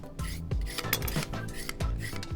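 A carrot for a banh mi is peeled close by in short, rhythmic rasping strokes, about one every half second, with a dry scraping texture.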